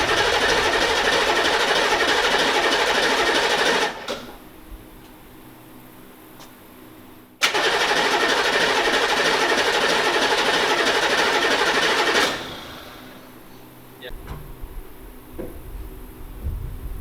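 A newly installed Humvee motor on its first start attempt gives two loud, steady bursts of engine noise, each about four seconds long, with a quiet pause between them and a faint rattle afterward.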